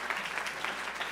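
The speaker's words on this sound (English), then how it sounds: "let's give a big round of applause for our couple." Brief burst of audience clapping for a couple at a live musical show, a thin wash of applause lasting about a second.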